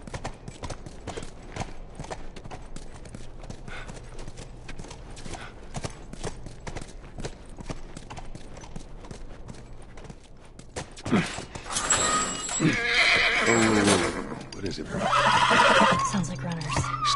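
Horse hooves clip-clop steadily in The Last Of Us Remastered, then a loud neigh and whinny break out near the end, with voices talking over the scene.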